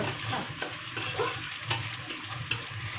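Mango pieces fry in oil in a pan for a tangy Mourola fish curry, a soft continuous sizzle with gentle stirring scrapes and two sharper clinks of a utensil against the pan.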